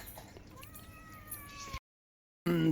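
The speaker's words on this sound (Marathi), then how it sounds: "काय चाललंय मांजराचं मग" A cat gives a drawn-out meow against quiet background noise, followed by a brief silence and then another loud, close meow.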